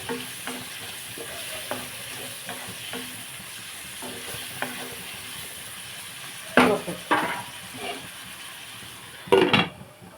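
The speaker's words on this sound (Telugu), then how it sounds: "ఉల్లిపాయ మగ్గుతుంది కదా ఇందులో అల్లం వెల్లుల్లి పేస్ట్ వేసుకుందాం" Chopped onions with turmeric frying in a pan for cashew-coriander chicken curry: a steady sizzle with soft stirring, then a few louder spatula scrapes and clinks against the pan near the end.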